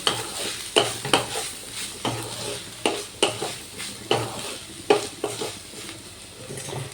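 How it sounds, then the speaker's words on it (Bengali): Ground turmeric, ground coriander and ginger paste are sautéed in a pan, with rhythmic spatula scrapes and clacks about twice a second over a soft sizzle, close and clear with no talking. "এবার আমি আদা বাটার গুঁড়ো মশলাগুলো ভালো করে কষিয়ে নেব"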